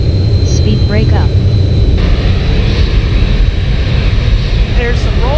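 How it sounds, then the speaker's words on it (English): A Boeing 737 in a flight simulator rolls out after landing with thrust reversers deployed, a loud, constant broadband engine roar that fills the cabin, joined by short chirping tones and clicks from the cockpit. "There's the rollout and the reversers."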